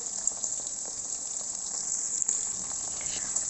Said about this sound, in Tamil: இந்த சிக்கனை நம்ம எண்ணெயில் பொரித்து எடுத்துக்கலாம்